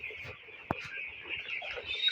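Broiler chickens seventeen days old on a poultry farm, a dense, constant chorus of high chirping and soft clucking from many birds, with one sharp knock partway through.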